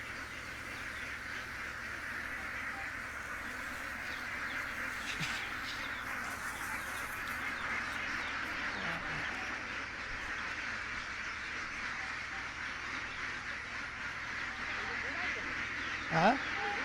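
A large flock of ducks crowds around a feeding dish, giving a steady, fairly faint background of massed quacking and chatter that continues throughout, with one louder call near the end.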